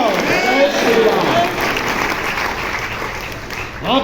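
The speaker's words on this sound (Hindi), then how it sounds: "आपकी तालियों का घनत्व और बढ़ाना" Sustained audience applause fills a poetry recital hall at an international Hindi kavi sammelan, a dense steady roar of many hands clapping that fades slightly toward the end, with a voice briefly audible beneath it.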